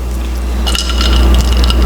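Lemon water being poured into a glass, a steady liquid trickle with faint glassy clinks that grows slightly fuller partway through, close and alone with no talk.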